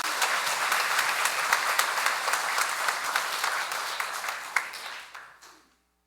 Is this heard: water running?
no